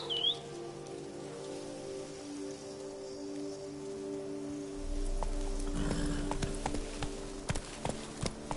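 Roach, the horse in The Witcher 3: Wild Hunt, clip-clops at a trot through steady game rain, with hoofbeats growing louder and more distinct in the second half over a low ambient music bed.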